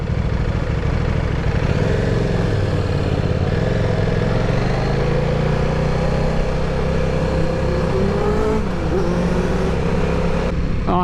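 An old Yamaha R6 motorcycle with a huge exhaust runs loud and close, its engine droning and rising in pitch as it revs, with traffic noise and a steady roar throughout and no speech.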